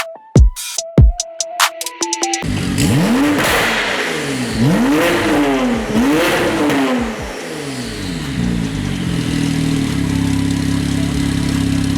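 A Porsche 911 Turbo of the 991 generation fitted with a Quicksilver exhaust revs loudly nearby, giving several sharp rising-and-falling blips before settling into a rumbling idle; no talking.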